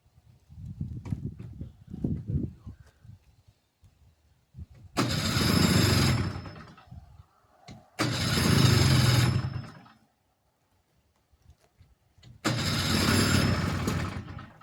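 A 1970 Ski-Doo Alpine snowmobile cranks on its electric starter in three separate bursts, each a few seconds long and fairly loud, with rough low rumbles and quiet gaps in between.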